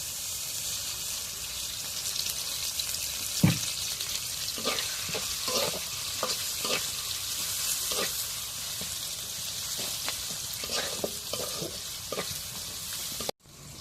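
Oil sizzles steadily in a pan, with occasional clinks and scrapes of stirring over the constant hiss.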